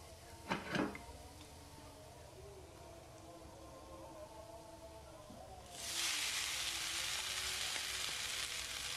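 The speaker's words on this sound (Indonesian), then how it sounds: "sedikit minyak goreng untuk menumis bumbu yang barusan udah aku halusin ya" Ground spice paste stir-fried in cooking oil for village-style nasi goreng: a faint, quiet sizzle at first with a brief clatter near the start, then a sudden loud, steady hiss of frying that continues to the end.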